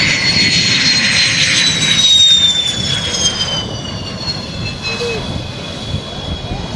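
A fighter jet roars overhead in a steady, loud engine wash, its whine sliding slowly downward as it passes, with faint voices underneath.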